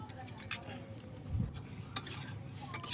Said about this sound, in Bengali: এবারে ভালো করে ভাজতে হবে লাল লাল করে